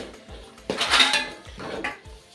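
Garam masala and beef masala being stirred in a pan for beef fry, with a spoon scraping and clinking against the metal in a few close, uneven bursts.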